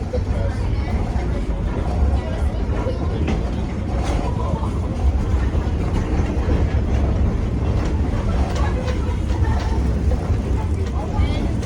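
The Edison steam locomotive at Greenfield Village pulls rail cars along the track with a loud, continuous rumble and clatter of wheels on rails, close and steady throughout, with voices faintly mixed in.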